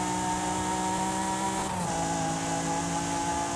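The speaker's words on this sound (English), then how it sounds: "This just shows you V6s can sound nice. Not all V6s sound bad." A V6 car engine in Forza Horizon 5 drones steadily with a sustained tonal hum, then the pitch shifts abruptly as if changing gear, continuing at a steady note.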